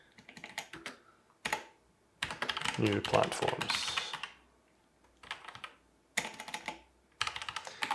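Typing on a computer keyboard while entering code: bursts of close, quick key clicks, with one longer dense flurry and short pauses between runs, plus a few spoken words.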